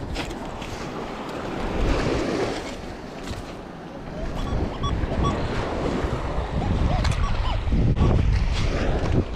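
Ocean waves break and wash onto a beach during metal detecting with an XP Deus II, a loud, surging roar that swells and recedes, blended with gusty wind noise on the microphone.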